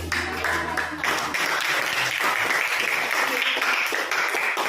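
Applause from a classroom group during a teacher-training lesson on explanation texts in Indonesia, a dense steady patter of many hands lasting throughout, fairly close, with a low hum at the start.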